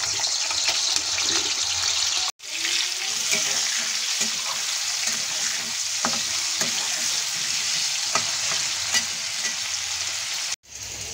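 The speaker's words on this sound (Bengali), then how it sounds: "কড়াইতে তেল গরম হয়ে গেছে, এখন আমি আলুগুলো একটু ভেজে নেব লাল করে।" Potatoes fry in hot oil in a wok for a jackfruit dish, giving a loud, steady sizzle with occasional stirring clinks and scrapes, two brief cuts of silence breaking the continuous hiss.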